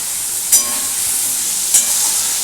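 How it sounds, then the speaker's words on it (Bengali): Spices and tomato sauce frying in a pan for chitol fish muitha, a steady close sizzle with faint stirring and two brief scraping bursts. "এটাকে আমি এবার ভালো করে কষবো।"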